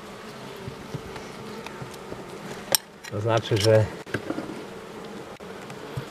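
Honeybees, many of them young, crawling over brood combs in an open hive, a steady low buzzing hum beneath close handling noises and someone speaking briefly.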